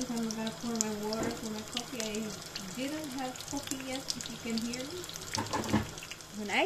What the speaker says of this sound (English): I'm gonna pour my water for my coffee.